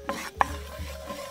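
A roux of flour and fat stirred in a pan, cooked just past blonde: soft scraping strokes with a sharper knock of the utensil against the pan, close and quiet.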